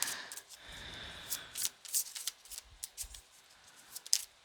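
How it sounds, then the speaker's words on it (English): Tarot cards are shuffled in quick, crisp bursts of riffling and slapping, fairly close and quiet, with short pauses between the flurries. "Spirit's putting the cards in order for you."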